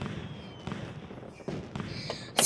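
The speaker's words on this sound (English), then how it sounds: "There's fireworks." Fireworks go off in the Super Mario 3D World video game, several separate bursts and crackles spaced through the stretch, with a sharper, louder pop at the very end.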